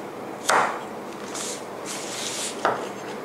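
A knife cuts through the roots of green onions with two sharp chops on a board, along with softer scraping and slicing sounds in between.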